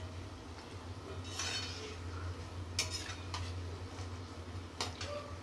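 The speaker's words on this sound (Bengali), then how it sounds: "লাল লাল করে ভেজে নিই।" Quiet frying of nimki, with metal utensils clinking and scraping against the pan in a few sharp, scattered hits over a low steady hum.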